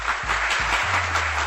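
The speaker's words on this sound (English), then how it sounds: "Let's give him a roaring round of applause, shall we?" A short burst of audience applause, dense steady clapping under a low background hum.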